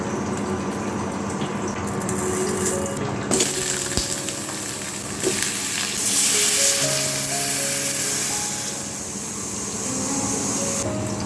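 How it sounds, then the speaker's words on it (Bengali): Raw mango chutney bubbling in a pot on the stove, a steady low simmering hiss with soft liquid bubbling throughout, with no talking over it. "এদিকে চাটনিটা ফুটছে"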